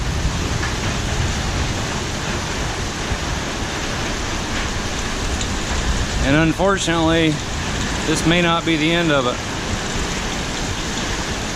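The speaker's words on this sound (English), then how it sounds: "I want to go out and pick up some of this hail, but I don't really want to get pelted by hail." Heavy rain and hail pour down in a loud steady roar that fills the whole stretch, while someone talks briefly partway through.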